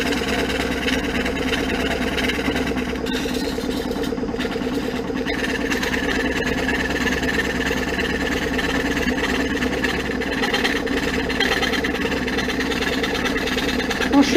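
A die filing machine running with a square four-sided file fitted, steady mechanical motor drone and rapid reciprocating chatter, continuous and close throughout with no talk.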